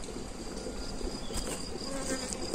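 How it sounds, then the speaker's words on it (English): A dense, steady buzz of swarming honeybees fills the air in a permaculture food forest, with a thin high whine running continuously through it. "And daddy's bees are swarming. It's very noisy. They're very noisy, buzzing."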